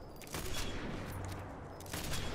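Rapid gunfire from a shooter video game, bursts of shots crackling continuously through the whole stretch, dense and steady with louder spikes, no talking over it.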